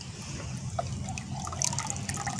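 Garlic peel liquid fertilizer is poured through a strainer, giving a soft, close trickle with scattered drips and splashes over quiet room background.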